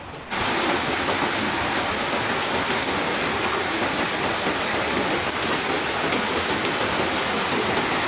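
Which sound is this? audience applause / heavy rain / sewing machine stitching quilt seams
heavy rain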